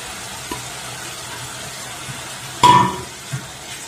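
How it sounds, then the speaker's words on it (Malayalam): Tomato with ginger and garlic stirred in a pan for paneer burji, a quiet background sizzle broken by one brief loud scrape-and-clink of the spoon against the pan. "നല്ലതായിട്ട് ഇളക്കി കൊടുക്കാം"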